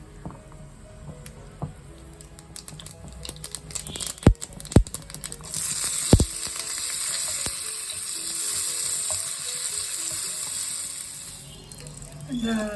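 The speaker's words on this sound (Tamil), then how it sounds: "இப்போ தாளிச்சு கொட்டலுக்கு போயிடலாம்." Mustard seeds and curry leaves sizzle in hot oil for a tempering to pour over a buttermilk kootu in a home kitchen. A broad, steady frying hiss swells partway through, with a few sharp pops and clinks before it.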